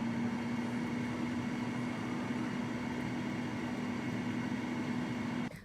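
A NuWave air fryer frying chicken gives off a steady, close fan whir with a constant low electrical hum, unchanging throughout and cutting off abruptly at the very end.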